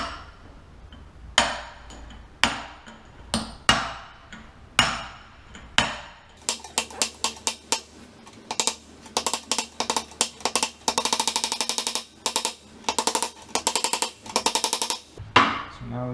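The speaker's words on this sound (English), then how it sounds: "Just hammer down." Metal hammer strikes driving a part into a Honda S2000 gearbox: a few slow, spaced blows followed by a long run of rapid, sharp ringing taps, close and loud with no talking.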